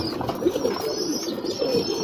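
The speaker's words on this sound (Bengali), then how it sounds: "কবুতরের গোসল আমি ভাই টিমসেন পাউডার লেগা দিই।" Pet pigeons coo softly and repeatedly, a steady low warbling that runs throughout at close range with no talk, while the birds are bathed in water mixed with Timsen powder to clear lice.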